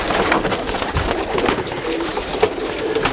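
Red-eyed Teddy pigeons cooing in a loft, repeated soft throaty coos mixed with wing and perch scuffles, close and fairly loud, with no one talking.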